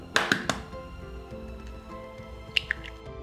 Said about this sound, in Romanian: Într-un alt bol, spargem cele 3 ouă.